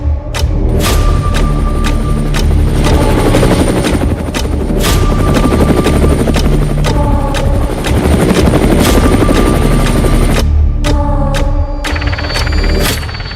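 An Indian light combat helicopter drones loudly and steadily up close, its rotor and turbine noise continuous for the whole stretch, with rhythmic blade chopping and sharp high whines that drop out briefly a few times.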